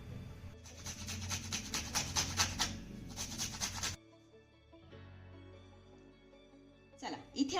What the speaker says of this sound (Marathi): आता अशाच पद्धतीने सगळे आवळे आपण किसून घेऊया